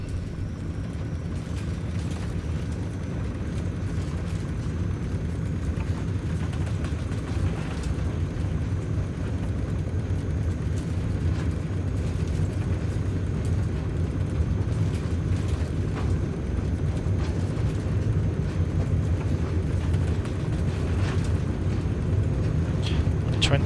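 Airplane engine drones steadily as power comes up for takeoff with 15% flaps in Microsoft Flight Simulator over Sweden, a continuous low rumble that stays level and slowly builds, with a voice talking over it now and then.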